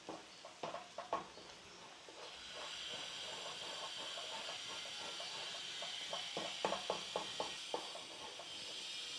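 Red onion marmalade sizzles and hisses steadily in a hot pan, a continuous close steam hiss punctuated by clusters of soft bubbling pops and spoon knocks near the start and end.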